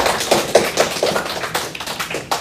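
A small school group applauds first graders: quick, uneven claps and taps close by, short and loud, with no voices over them.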